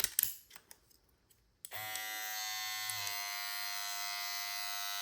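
A cordless professional barber hair clipper trimmer switches on after a few faint clicks and handling noises, then hums steadily and loudly with a bright electric buzz, its pitch shifting slightly partway through.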